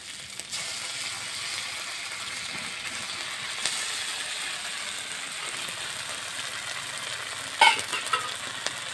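Cumin powder and cashew paste fry in a pan for a village-style egg korma while a spoon scrapes and stirs, giving a steady close sizzle with irregular scraping and one sharp clink near the end.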